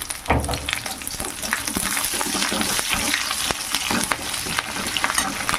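Garlic and ginger fry in a pan with a busy crackling sizzle, mixed with frequent stirring clatter, steady and close throughout with no voices.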